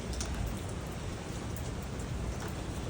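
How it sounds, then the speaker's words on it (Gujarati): Steady rain falls, a dense, even hiss of drops pattering on surfaces, continuous and fairly loud with no voices. "यहाँ पे वरसाद आ रहा है"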